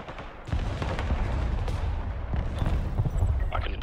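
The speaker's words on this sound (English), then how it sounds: "Alright, fire artillery in the middle." Artillery fire in the video game Broken Arrow during a 5v5 multiplayer match, a dense rumbling barrage of booms and blasts that swells into a continuous loud roar.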